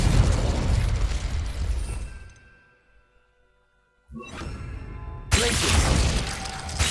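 Confringo fire blast spell in Hogwarts Legacy: loud crackling blast noise that dies away into near silence, then a fresh burst and a louder, sharper explosion near the end.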